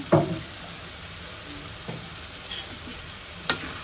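Cumin powder stirred into ridge gourd with green chillies frying in a pan: a low continuous sizzle with a few spoon scrapes and taps, close and fairly quiet.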